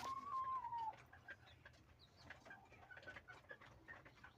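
A hen clucks softly in short, scattered notes, opening with a faint rising call, against a quiet background with light rustling.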